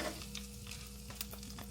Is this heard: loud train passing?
no